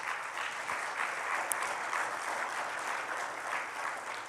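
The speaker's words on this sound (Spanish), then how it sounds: "Denle un aplauso a Cristo, amén." Congregation applauding in a church service, a steady, even wash of many hands clapping at moderate distance that carries on throughout with no voices over it.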